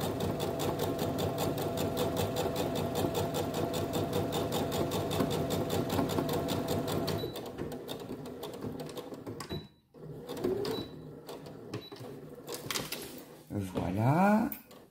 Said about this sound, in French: Et on continue notre couture jusqu'en bas.